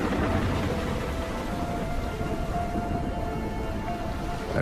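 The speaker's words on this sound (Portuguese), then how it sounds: "Com as temperaturas a rondar os 0 graus, a chuva transforma-se em granizo," Near-freezing rain turning to hail in a Nordic polar region: a steady, dense hiss of falling precipitation with a low rumble underneath, continuous and fairly loud.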